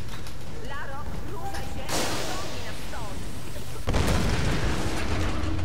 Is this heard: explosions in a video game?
yes